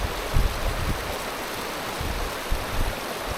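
Creek water rushes steadily during a creek crossing on foot along the John Muir Trail near Rock Creek, a close broadband roar with occasional soft splashes and no talking.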